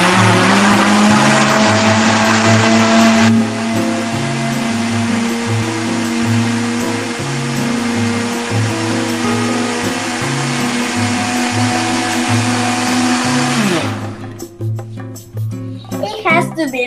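Electric mixer whirring through batter with sugar, a steady loud motor hum with pulsing tones running for most of the clip before stopping near the end, where a voice speaks briefly.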